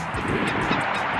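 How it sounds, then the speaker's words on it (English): A loud bird honks repeatedly right nearby outdoors, a harsh goose-like clamor filling the whole moment with no talking. "loud ass bird, thanks for ruining my vlog"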